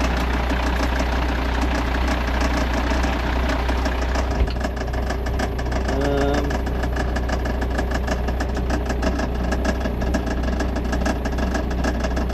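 Caterpillar machine's diesel engine idling in neutral, a steady low rumbling drone with a knocking vibration, close and constant, with no talk.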